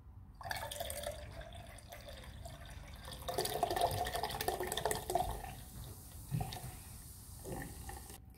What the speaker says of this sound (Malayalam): ഇനി സോഡ ഒഴിച്ചു കൊടുക്കുകയാണ്.